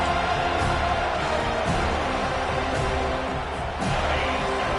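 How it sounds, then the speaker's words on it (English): A packed football stadium crowd roars steadily and loudly through a fourth-down defensive stand, a dense wall of cheering with occasional louder swells and no clear talk on top. "This crowd busting the decibel meter and trying to will a fourth down stop."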